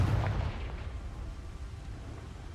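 A Confringo spell blast in the Hogwarts Legacy video game, one deep explosive boom at the start followed by a rumbling decay over a couple of seconds, fairly quiet and without talk.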